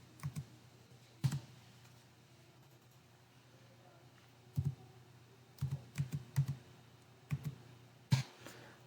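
Typing on a computer keyboard while entering data into a spreadsheet: scattered clusters of close, crisp key clicks with pauses between bursts over a quiet background.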